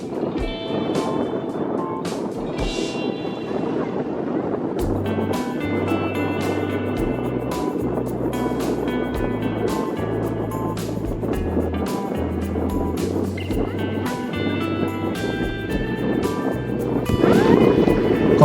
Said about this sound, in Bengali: শুধু বাতাস আর পানির শব্দ।